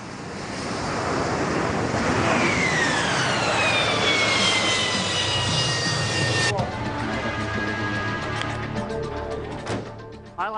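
A military jet aircraft roars loudly and steadily with a broad rushing engine noise and a descending whine; a voice talks over it.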